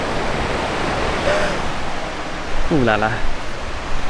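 A low river flows over rocks in a forest park, making a steady broadband rushing that continues throughout, while a voice briefly exclaims near the end.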